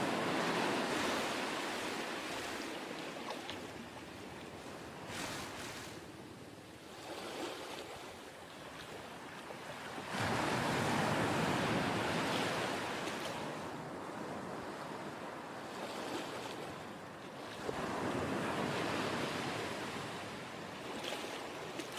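Ocean waves and surf from a video game scene with seagrass swaying in the water, a continuous rushing wash that swells and recedes in repeated surges, broad and steady with wind-like hiss, no voices.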